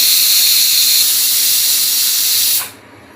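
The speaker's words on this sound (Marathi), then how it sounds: "मग कुकरच्या 8-9 शिट्ट्या काढून घेतल्या." A loud, hissing pressure cooker whistle blows steadily for a few seconds, then abruptly stops, leaving quiet.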